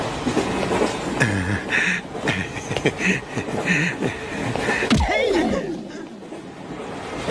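Inside a moving train in a Telugu film comedy scene, a continuous rumble and rattle of the carriage runs under voices and some chuckling laughter.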